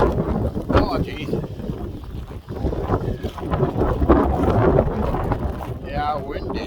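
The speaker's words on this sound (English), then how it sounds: "Yeah, it is windy." Strong gusting wind on an outdoor nature walk, a loud continuous rushing buffet across the microphone that never lets up.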